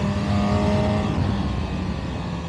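A Honda Hornet 1000 SP motorcycle engine pulls hard through the midrange, a steady, loud, close-up drone that holds without a break for the whole stretch, with no one speaking over it.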